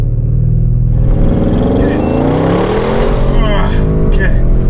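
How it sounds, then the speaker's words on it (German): A 700 hp Audi RS6 accelerating hard from 0 to 200 km/h, its engine rising in a steady loud roar with climbing pitch and shift breaks, under a continuous heavy rumble with a voice talking over it. "dann folgt jetzt die 0 auf 200 Messung mit der 700 PS Variante"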